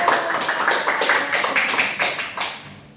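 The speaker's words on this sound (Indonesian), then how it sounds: "beri tepuk tangan untuk Mbak Ira" A primary-school class claps for a pupil during a second-grade maths lesson on telling time. Quick rhythmic clapping comes from many small hands and stays fairly loud and close before fading out at the end.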